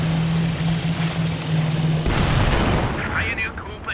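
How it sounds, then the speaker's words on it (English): A grenade goes off in a 2v2 Company of Heroes 2 match, one sudden broadband boom midway through over steady battle noise, while a commentator's voice runs underneath. "Massive grenade there."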